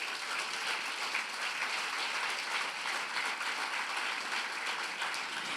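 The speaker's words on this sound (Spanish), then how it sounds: "Denle un aplauso al Señor." Steady applause from a church congregation during a sermon, continuous clapping that fills the room evenly for several seconds, moderately loud and diffuse, with no one speaking over it.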